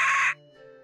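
A bird in the Nancy Drew game Curse of Blackmoor Manor gives one short, harsh squawk up close, then it stops abruptly and only a quiet tonal hum remains.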